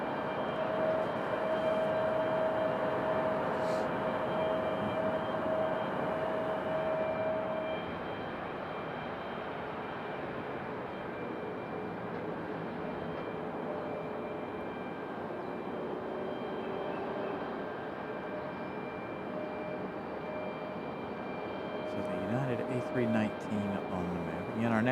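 Airbus A319 airliner moving at Raleigh-Durham International Airport, a steady broad distant engine roar that holds throughout and dips slightly partway, with faint talk underneath.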